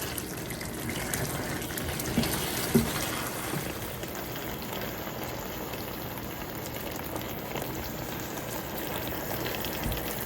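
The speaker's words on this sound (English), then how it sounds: "Simmer with the pasta for 1 more minute." Pasta simmers in sauce in a pan, giving a continuous close hiss and bubbling with a faint clink near the start.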